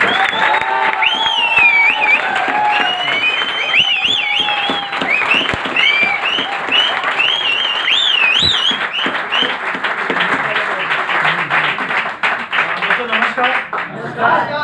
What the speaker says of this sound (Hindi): तो मैं बुलाने चाहता हूँ हमारे रवि बूटे सर को, जोरदार तालियां।